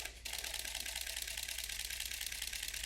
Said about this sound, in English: if I was just holding down my shutter,